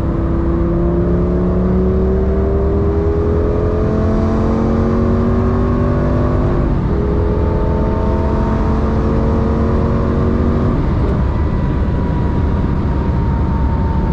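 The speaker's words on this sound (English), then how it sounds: "Do a couple downshifts here." A Lamborghini Gallardo's engine is heard from inside the car, climbing and dropping through several gears as it downshifts, then revving hard in a loud, sustained acceleration with rising whine.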